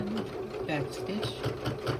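A sewing machine runs a short back stitch on a small snap bag, giving a close, pulsing mechanical whir in quick bursts with someone talking over it.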